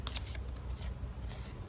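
Tarot cards being shuffled by hand during a card reading, a steady papery riffling and rustling texture with a few sharper bursts, continuous and close throughout.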